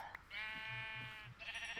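A sheep in the Minecraft video game bleats once, a short quavering baa heard faintly and alone, with light clicks before and a bit of noise after.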